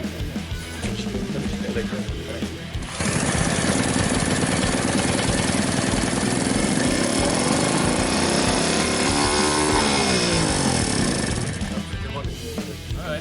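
A Solex 3800 moped's small engine drones loudly, then its pitch rises and falls as it revs up and settles again.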